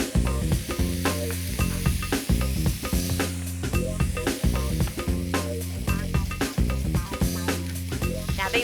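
Charred beef patties sizzle in a frying pan with a steady, bright hiss. Rhythmic background music plays prominently throughout, partly covering the sizzle.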